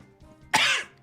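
A single sharp, close cough from a man bursts out after a quiet moment, rough and breathy, trailing off within half a second.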